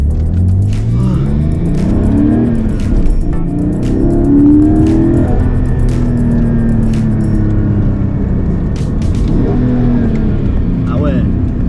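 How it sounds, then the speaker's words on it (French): A Porsche 718 Cayman GT4 (2023, manual gearbox) engine pulls steadily from inside the cabin, its rising harmonic drone continuous and loud throughout, with people talking over it. "Les amis, nous sommes partis en 718 Cayman GT4."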